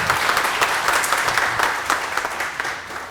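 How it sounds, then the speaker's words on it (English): Audience applause at a panel discussion: steady, dense clapping from a crowd lasting about three seconds without a break, fairly loud and close, with no speech over it. "Can we have a round of applause for that one?"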